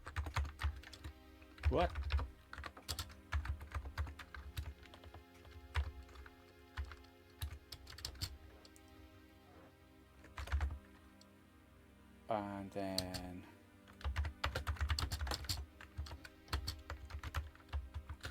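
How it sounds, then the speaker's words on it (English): Typing on a slightly clicky Commodore Amiga A2000 keyboard right beside the microphone, bursts of sharp, close keystrokes with pauses between, while someone speaks briefly. "my microphone's right beside this keyboard, and it's one of the slightly clicky A2000 keyboards"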